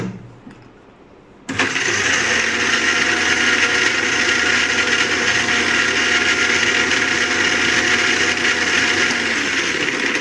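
Lassi of ice, milk and water churned hard for a Ramadan drink, a loud, steady rushing rattle that starts abruptly after a quiet second and runs on evenly to the end, with no talking.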